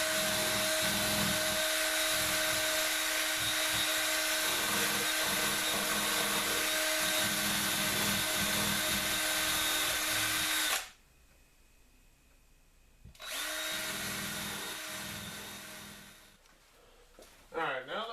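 A rotary wheel whines loudly and steadily while cleaning the screw heads from an antique hand plane, cutting out for a couple of seconds, then starting again before winding down.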